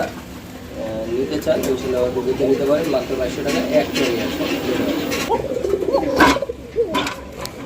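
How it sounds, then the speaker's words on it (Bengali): A pair of Koka pigeons coo repeatedly at close range, their soft throaty calls running under someone talking over them throughout. "কোকাটা প্রচুর পরিমাণে ডাকাডাকি করতেছে"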